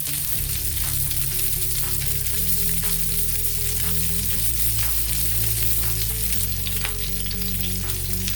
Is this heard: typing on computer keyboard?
no